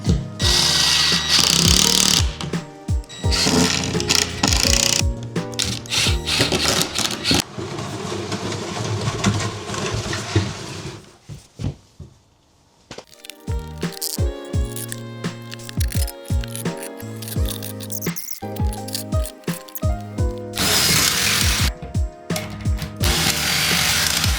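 A power drill drives screws, 1 1/4 inch long, into a wooden kitchen hutch, giving repeated loud bursts of whirring and ratcheting with short pauses between screws, close up and without talk.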